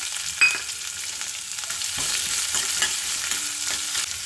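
Chopped onion sautés in hot oil with mustard seeds, cumin, curry leaves, peanuts and green chili, crackling loudly and continuously up close as a spatula stirs and scrapes the pan; no one speaks.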